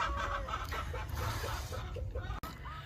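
Hens squabble over a favourite laying spot, with soft clucks and agitated chicken calls nearby over a low background rumble, and a brief sharp knock near the end.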